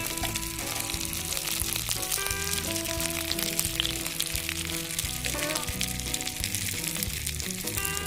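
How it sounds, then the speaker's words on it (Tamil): Green fish fries on a hot tawa over a village cooking fire, giving a continuous close, crackling sizzle with small pops throughout. "நெக்ஸ்ட்டு நம்ம ஃபிஷ் வச்சு ஃப்ரை பண்ணிடலாம்."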